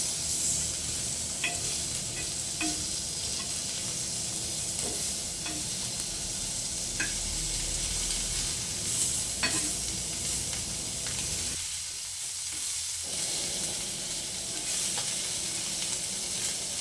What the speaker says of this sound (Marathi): असे मस्तपैकी मंद आचेवर खरपूस असे चुरचुरीत असे मासे भाजून घेतले.